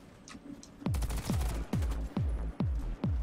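Rapid bursts of automatic gunfire against Blackwood troops in the first-person shooter Warface, loud booming shots with echoing tails, close and steady over the stretch.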